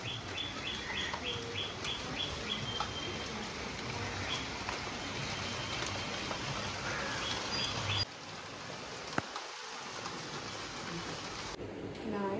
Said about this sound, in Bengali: এদিকে বৃষ্টিও নেমে গেল